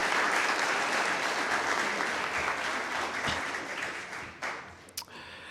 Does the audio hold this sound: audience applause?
yes